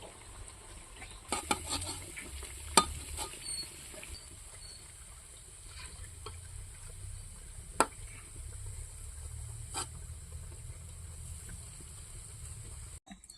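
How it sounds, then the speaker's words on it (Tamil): Coconut vadai, both sweet and spicy, frying in hot oil over a low flame: a steady, soft bubbling hiss runs throughout, with a few sharp utensil clinks and taps scattered through it. "எண்ணெயில் போடக்கல கொஞ்சம் தீயை கம்மியாக வச்சுருங்க"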